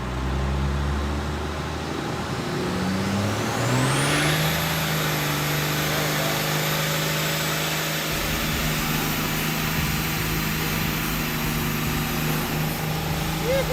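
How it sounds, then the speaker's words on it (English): A car's engine roars at high revs during a line-lock burnout as the tires smoke. The revs climb and then hold a loud, steady drone, with speech underneath. "Let's smoke some tires."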